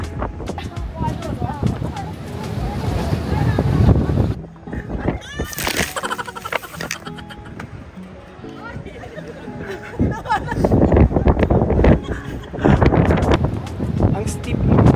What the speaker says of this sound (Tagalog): Guys, sobrang lakas ng hangin,